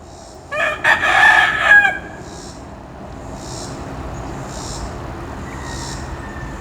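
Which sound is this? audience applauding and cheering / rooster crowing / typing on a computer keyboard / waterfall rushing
rooster crowing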